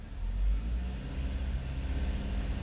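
Engine of a 2016 Chevrolet Equinox with a rich-running fault held at about 2,000 RPM, a steady low rumble that swells slightly early on and then holds even and close, with no talking.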